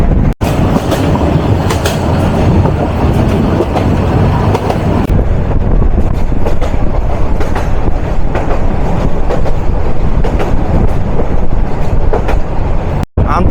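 A local commuter train in Jamalpur rolls along with loud, close rumbling and rhythmic clickety-clack from the wheels, heard from on board and steady throughout, with a couple of sharp clunks.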